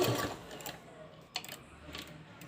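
A sewing machine runs briefly while stitching the border of a blouse neckline, a faint mechanical whir followed by a few soft clicks and quieter stretches.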